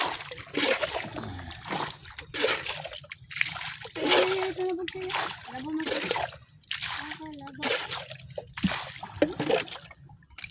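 Repeated splashes and sloshes of water being scooped and tossed in bursts as water is bailed out of a boat, while people talk loudly over the watery noise.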